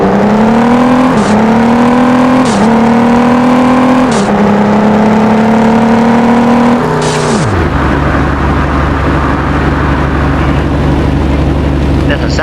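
A 2023 Ford F-150 engine in the game Car Parking Multiplayer revs loudly in repeated rising bursts, then drops to a deep, steady idle rumble.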